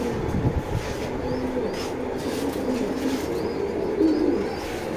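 Racing pigeons coo softly and repeatedly, a low rolling murmur from several birds close by, with faint background bustle and occasional higher chirps.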